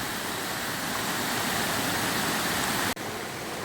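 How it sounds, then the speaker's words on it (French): Broad, steady roar of the Hérisson waterfalls in the Jura, heard from above the first cascade, a loud continuous rush of falling water with a brief dropout near the end and no voices. "Là, je suis au-dessus de la première cascade."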